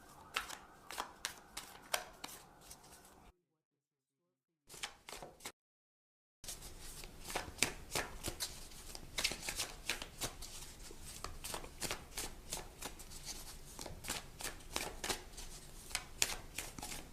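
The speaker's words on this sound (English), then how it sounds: "I will also choose a few oracle cards for additional information." A deck of oracle cards is shuffled close up, with rapid papery riffles and soft slaps in bursts, broken by two short silent gaps, then continuing steadily for about ten more seconds.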